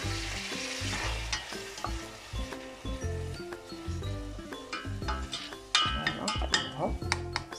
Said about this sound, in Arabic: قلوها بصل